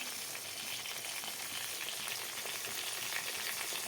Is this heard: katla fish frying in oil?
yes